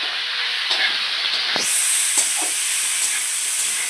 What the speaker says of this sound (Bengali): এবার এটাও একটু ভাজা ভাজা হবে টমেটোটা দেওয়াতে